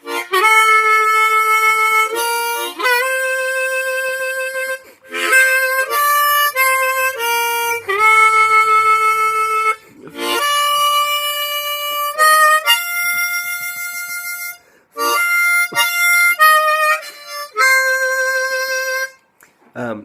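Harmonica playing a riff with vibrato: loud, bright reedy notes in short phrases separated by brief pauses, some held with a wavering pulse, others bent or slid into.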